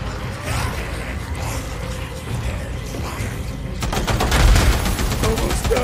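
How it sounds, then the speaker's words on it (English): RPK machine gun in Days Gone, with a rapid burst of automatic fire breaking in after a stretch of mechanical rumble and creaking, loud and close, with no talk. "we got the RPK out"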